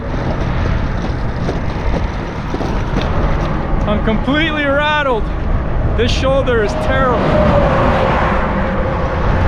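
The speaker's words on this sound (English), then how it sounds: "There's so many cars and trucks in this road." Steady roar of cars and trucks rushing past on Interstate 40 in Arizona, heard from a bicycle on a coarse road shoulder, loud and continuous under a rider's nearby talk.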